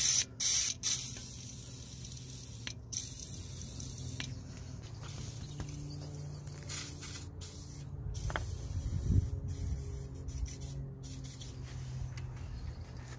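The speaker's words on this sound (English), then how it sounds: "we're gonna apply plenty of WD-40 on them" WD-40 sprays onto rusty bolts on the front suspension of a Peugeot 207: a few short, sharp hissing bursts at the start, then quieter handling noises and faint spray hiss.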